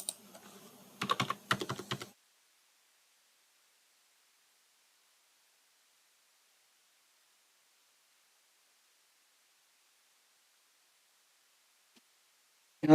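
Quick bursts of typing on a computer keyboard while filling in a REET application form, a short cluster of close clicks followed by long silence and one faint tap near the end.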